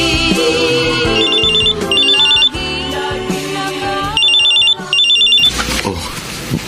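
Cellphone ringtone in a Filipino radio drama, a loud looping electronic melody with repeated chirping bursts, playing alone for several seconds before breaking off.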